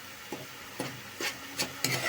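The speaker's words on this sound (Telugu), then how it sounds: "ఇవి పేస్ట్ చేసుకున్నాం కాబట్టి పచ్చివాసన పోయే వరకు బాగా వేగాలి" Onion paste frying in oil for a chicken curry, with a soft steady sizzle under five or six spoon strokes scraping the pan at a loose, even rhythm.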